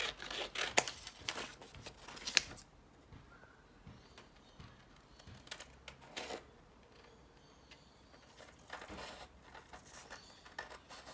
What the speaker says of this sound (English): I'm just doing a bit of cutting